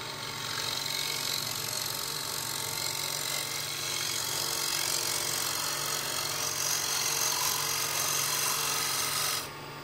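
A shear scraper works lightly across spinning wood on a lathe, making a steady, close, continuous rasping scrape with no breaks, dropping slightly quieter at the very end.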